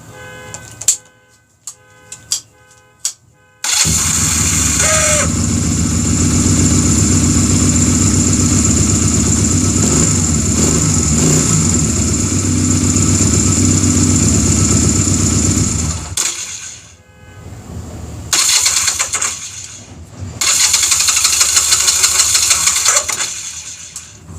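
A Honda Rebel motorcycle engine is cranked briefly with a few sharp ticks, then starts and runs at a loud, steady idle for about twelve seconds before cutting out, followed by two more short bursts of running.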